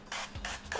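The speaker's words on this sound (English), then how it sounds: "I'm just gonna spray it with just a little bit of avocado oil" Cooking spray of avocado oil mists into a large loaf pan in two or three short, soft hissing bursts, close and quiet.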